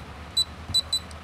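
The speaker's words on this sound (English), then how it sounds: "6 beeps" Keypad of a La Gard 39E electronic safe lock giving four short, high electronic beeps in an uneven pattern, close and clear over a quiet room.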